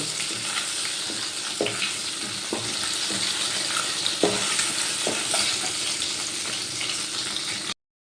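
Tangra fish sizzle steadily in hot oil, a constant crackling hiss with a few soft clinks of a utensil turning the pieces.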